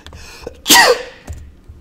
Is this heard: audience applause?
no